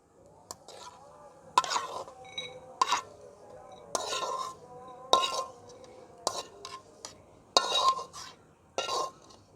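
Roasted dry fruits are scooped from a pan with a metal spoon, giving repeated scraping clinks and stirring scrapes in an irregular rhythm, close and moderately loud.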